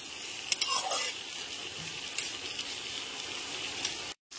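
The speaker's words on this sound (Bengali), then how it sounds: "টমেটো কুচিগুলো খুব ভালো করে কষিয়ে নিতে হবে।" Chopped tomatoes sauté in a pan for chicken keema khichuri, a steady, fairly faint sizzle with a few stirring scrapes and a brief cut to silence near the end.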